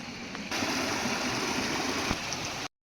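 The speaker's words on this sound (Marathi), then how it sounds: "आता तुम्हाला थोड्याच वेळात दाखवतो पाणी कसं पडतंय" Water rushes and splashes steadily over rocks in a small rocky river, a continuous close broadband roar that cuts out briefly near the end.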